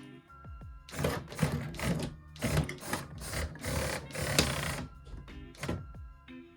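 A LEGO bowling alley pinsetter mechanism runs with a busy string of clattering, whirring mechanical bursts and plastic knocks, loud and close, pausing briefly between rapid cycles.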